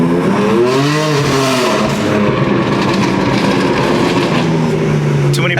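A BMW M4 GTS accelerates hard from inside the car, its engine climbing through rising revs with a shift, then burbling and popping from the exhaust, loud and close.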